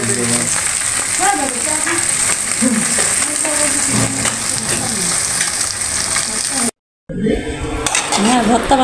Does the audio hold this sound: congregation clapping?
no